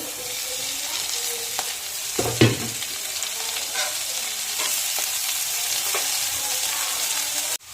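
Leafy greens hit a pan of reddish fried onions and chopped chilies, setting off a loud, continuous sizzle with a brief clatter of stirring early on and no voices.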